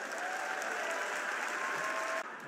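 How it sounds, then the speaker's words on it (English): A large crowd at the 2024 Democratic National Convention claps in steady, dense applause that fills the hall evenly from start to finish, with a slight drop near the end. "Let's give him a round of applause."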